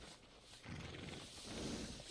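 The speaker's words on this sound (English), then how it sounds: "horse got worms or something" A horse in the Red Dead Redemption 2 video game whinnies and snorts while hooves shift, fairly close and alone with no talk.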